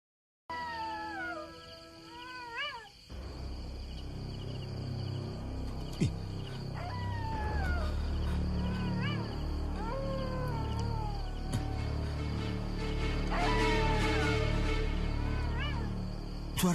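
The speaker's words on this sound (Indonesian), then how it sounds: "Bukan, itu suara serigala." A wolf howls as a drama sound effect, several rising and falling wavering calls over a steady low rumble and hiss, with one long howl fading in and then repeated howls spread through the scene.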